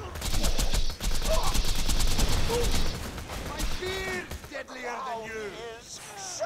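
Rapid automatic fire from an orange-rarity slag-damage SMG in Borderlands 2 rattles loudly for about three seconds, then gives way to explosions and game effects with someone talking over them.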